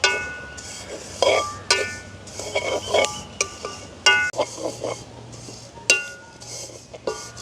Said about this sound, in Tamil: கறியிடும் அப்படியே வறுக்க தொடங்குவோம்